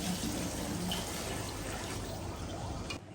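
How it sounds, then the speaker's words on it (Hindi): Water poured steadily from a jug into a large pot of rice, about three kilos of grain, making a continuous close gushing splash that runs unbroken for about three seconds before tapering off, with no voice over it. "उसमें मैं 24 गिलास पानी ऐड करूँगी।"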